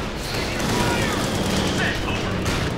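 Machine gun fire from an emplaced fighting position in Company of Heroes 2, a dense sustained clatter of bursts under battlefield noise, with voices talking over it.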